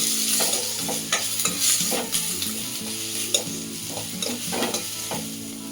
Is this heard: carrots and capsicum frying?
yes